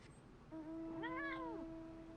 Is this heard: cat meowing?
yes